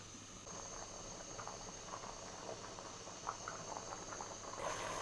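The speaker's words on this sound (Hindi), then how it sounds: "ये देखें बबल्स बन रहे हैं" Rice water bubbles faintly in a pot of chana pulao as the liquid cooks down, soft irregular popping and gurgling close by, quiet and with no talking.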